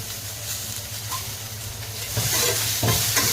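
Chopped onion and two medium tomatoes frying together in hot oil, a dense close sizzle that swells louder partway through as the pan is stirred, with a low steady hum underneath and no talking.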